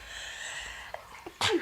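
A single sharp sneeze bursts out near the end after a few faint clicks over quiet background hiss.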